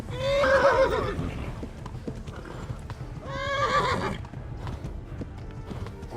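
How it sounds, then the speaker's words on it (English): Horse in the video game Kingdom Come: Deliverance, neighing loudly twice, one whinny near the start and another a few seconds later, over a continuous clatter of hooves. "Horse is about out of stamina."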